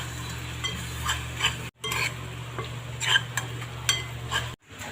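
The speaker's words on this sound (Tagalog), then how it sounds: "gigisa na natin guys. Nilaglag na natin ang brown sugar" Spatula scraping and stirring in a pan as brown sugar is added for a sauté, with repeated light metallic scrapes and clinks over a steady low hum, close by and with no talk.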